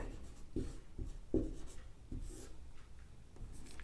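Pen writing notes in Hindi on paper during a grammar lesson, scratchy strokes in short bursts with brief pauses, close and quiet, no talking.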